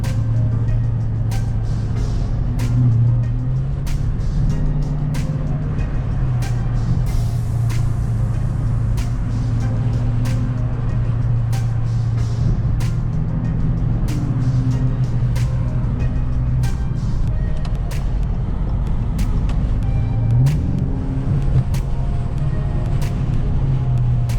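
A Dodge Charger RT heard from inside while driving with the sunroof open, a steady loud engine and road drone with shifting low hum and scattered clicks and taps throughout.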